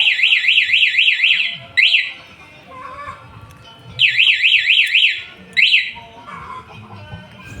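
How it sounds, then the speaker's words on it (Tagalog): A two-way car alarm sounds its lock chirp, two rapid warbling electronic bursts each followed by a short beep, repeated twice, loud and close. "Sa pinakataas naman, dito yung lock alarm."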